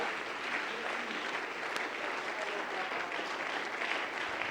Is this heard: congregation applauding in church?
yes